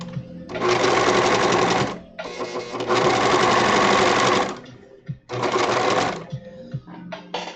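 A sewing machine stitching symbiote suit fabric, loud close mechanical whirring in three sustained runs separated by brief pauses and small clicks.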